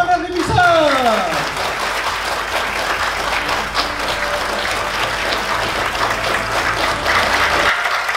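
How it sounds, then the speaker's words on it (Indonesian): Sustained audience applause and clapping for speakers at an evening event in Indonesia, a dense even wash of hands lasting throughout, with a brief rising tone near the start and some voices mixed under it. "dengan tepuk tangan yang tiada hentinya untuk pembicara kita, Cawan dan Rimisa."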